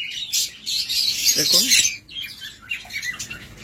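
Sun conure parrots give harsh, shrill squawks and chirps, loud and close, with someone talking over part of the calls.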